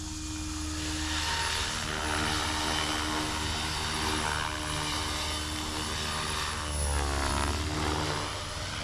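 A radio-controlled SAB helicopter flies with its rotor blades spinning, making a loud, sustained whine and buzzing drone with steady harmonic tones that rise and fall slightly as it moves, and no voices.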